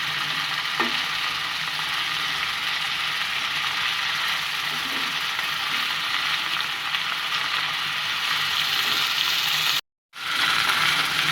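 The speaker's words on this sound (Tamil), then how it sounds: "பாருங்கள் நல்லா வதங்க ஆரம்பிச்சிச்சு வந்து நல்லா வதங்கணும்" Mint leaves sautéing in a little leftover oil in a pan for pudina thuvayal, a continuous close sizzle with occasional stirring scrapes, briefly cut to silence near the end before the frying resumes.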